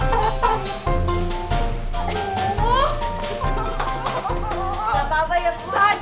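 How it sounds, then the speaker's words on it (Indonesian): A chicken clucks inside a house, its short calls mixed in with lively chatter and a voice over a busy indoor background. "Kok ada ayam dalam rumah?"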